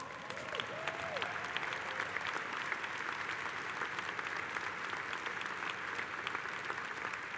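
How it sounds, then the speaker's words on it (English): Sustained applause from a large audience at a Communications Workers of America union convention, a dense, steady clapping that fills the hall at even loudness from start to finish. "Let's give them a round of applause."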